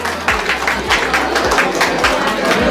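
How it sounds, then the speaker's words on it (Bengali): Audience at an education centre award ceremony applauding for a student receiving a certificate: steady, dense clapping from a close crowd, continuous and even throughout. "জোরে একটা হাততালি সাত্বিকের জন্য।"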